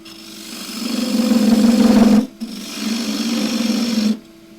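A wood lathe spins at 1650 RPM while a scraper turns a roughly 6-inch bowl, making a steady loud whirring hum with a rasping cut. It briefly drops out after two seconds and then resumes.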